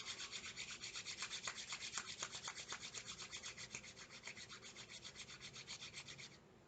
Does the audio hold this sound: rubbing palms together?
yes